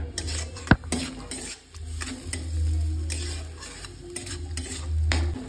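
A spoon scrapes and clinks against a pan as masala is stirred in ghee for a prawn malai curry, with a low sizzle under the repeated metallic scraping strokes.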